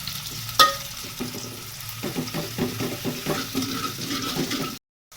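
Onions being stirred as they fry in a pan for vegetable biryani, with a steady sizzle under repeated scraping and stirring strokes, close by and moderately loud, without any talking.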